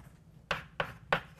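Three short scratchy strokes of writing on a board during a physics lesson, spaced about a third of a second apart, fairly faint against a quiet room.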